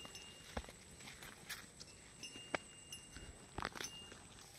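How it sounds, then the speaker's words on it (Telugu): Cows being led along on foot, their hooves landing in faint, irregular knocks and scuffs against quiet outdoor ambience. "ఫ్రెండ్స్ చూసారా, ఆవులతో వెళ్ళిపోతున్నాం"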